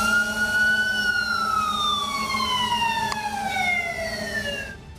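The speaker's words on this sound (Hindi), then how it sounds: "एक ड्रोन तो सायरन बजाकर लोगों को सावधान भी करता दिखा" A drone sounds a warning siren at people near a highway, a loud wailing tone whose pitch glides slowly downward for several seconds over steady background noise.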